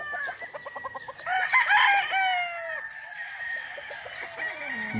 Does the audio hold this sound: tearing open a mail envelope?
no